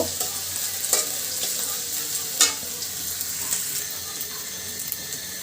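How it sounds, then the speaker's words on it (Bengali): Onion and chili frying in a pan give a continuous close sizzle, with occasional clinks and scrapes as they are stirred. "পেঁয়াজ মরিচটা খুব সুন্দর করে ভাজি করে নিব"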